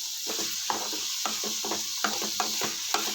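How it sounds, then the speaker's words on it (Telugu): Chutney ingredients for a snake gourd pachadi fry in a pan over a medium flame, giving a steady close sizzle with a regular rhythm of stirring scrapes and light clinks, and no talking. "ఇలా వేయించేసుకుని పచ్చివాసన పోయే వరకు కొంచెం ఫ్లేమ్ని కొంచెం మీడియం ఫ్లేమ్లో పెట్టుకుని వేయించుకోవాలండి."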